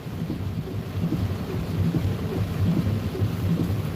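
Steady rain with low rumbling from a severe thunderstorm over Mississippi, heard from inside a storm-chasing vehicle; a continuous, fairly loud wash of rainfall with deep thunder rolling underneath.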